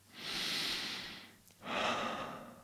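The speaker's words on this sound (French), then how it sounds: "Prenez un instant pour respirer profondément." Two long, deep breaths, a slow breathy inhale followed by a brief pause and a second drawn-out exhale, close and quiet with no talking.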